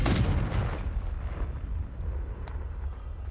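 Confringo blasting spell exploding in the Hogwarts Legacy video game: a single loud, deep boom at the start that rolls off into a long, rumbling low-frequency tail with no talking.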